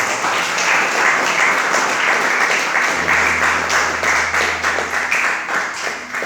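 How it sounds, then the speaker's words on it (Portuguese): Church congregation applauding loudly, a steady dense wash of clapping filling the room for about six seconds, with a low sustained organ or keyboard tone joining partway through. "Aplauda os céus bem forte."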